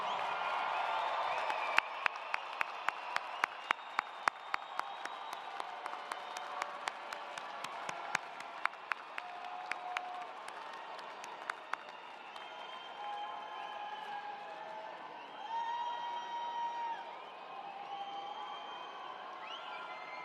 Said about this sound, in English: salute them with your applause